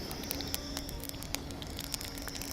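Mustard seeds spluttering in hot oil for Pallipalayam chicken fry, a faint, dense crackle of quick pops and spits over a soft steady hiss, no voices.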